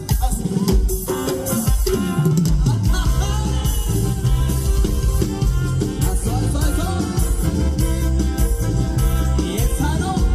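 A live band plays the chilena El Carpintero at a carnival in Loma Redonda, Mixtepec, Oaxaca, with steady rhythmic bass and bright melodic lines filling the whole stretch at full, even loudness.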